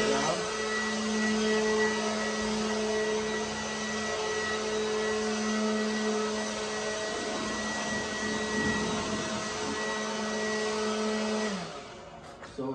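A Ryobi 18V lithium cordless leaf blower runs continuously at close range, a steady whirring hum with a high motor whine, then winds down near the end.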